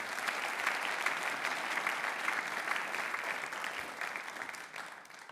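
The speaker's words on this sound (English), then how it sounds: "Let's give him a hand again" Audience applause for a singer at a big band jazz concert held in a church. The clapping is steady and full, from a sizable crowd, fading slightly toward the end.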